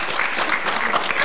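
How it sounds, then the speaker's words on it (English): Applause from a studio audience on a music TV show: dense, steady clapping that fills the whole short stretch, with no one speaking over it. "every time Nina asks you to applaud, you don't have to"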